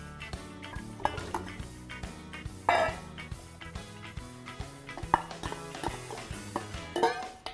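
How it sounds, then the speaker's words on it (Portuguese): Clinks and clatter as a lid comes off a cooking pot and chopped vegetables are tipped in, heard close in a rural Brazilian home kitchen over steady background music. "abre a panela e coloque os legumes picados"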